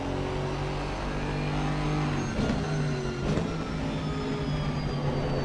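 GT4 race cars in the Assetto Corsa sim game drive close together in a slipstream on the Barcelona-Catalunya circuit, a continuous loud engine drone with rising and falling whine and a couple of brief surges.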